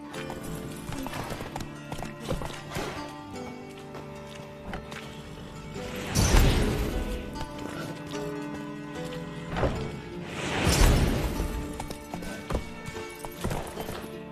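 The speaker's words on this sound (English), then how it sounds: "Gotta calm all the horses before they wake the guards." Horses in The Witcher 3 video game, with clip-clopping hooves and two loud whinnies close by against a game soundscape, no talk.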